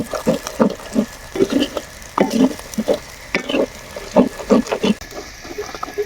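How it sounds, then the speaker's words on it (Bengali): Turmeric-spiced masala with a little salt being sautéed in a clay pot, with repeated bursts of stirring and scraping in an irregular rhythm over a soft, steady sizzle, close and fairly loud. "এবার মশলাটা আমরা ভালো করে কষিয়ে নিব"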